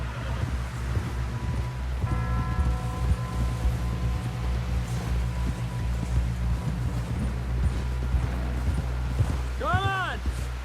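Horse hooves pounding in a gallop in Red Dead Redemption 2, a rapid rhythmic clatter running throughout beneath game music, wind and spoken dialogue.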